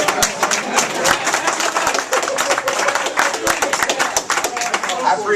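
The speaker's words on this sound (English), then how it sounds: "I appreciate the applause" A crowd applauds at a town hall meeting with dense, sustained clapping filling the room, close and loud, with no voices over it.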